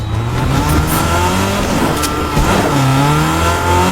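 A video game car engine revs loudly and steadily, its pitch climbing and dipping in waves throughout the few seconds.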